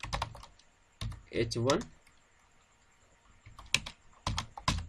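Typing on a computer keyboard: short clusters of quick, crisp key clicks near the microphone, separated by pauses, with someone talking briefly between them.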